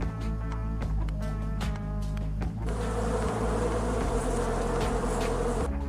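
Bees drone in The Demons Told Me To Make This Game, first under sparse clicks and thuds, then swelling into a dense, steady buzzing that fills the remaining seconds.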